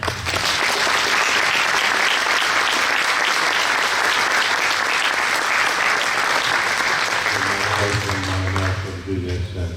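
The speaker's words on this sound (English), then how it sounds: "I want you to give him a big applause." Full, loud audience applause at a 40&8 Tomb of the Unknown Soldier ritual, a sustained roar of many clapping hands lasting nearly ten seconds, with a voice starting to speak as it fades at the end.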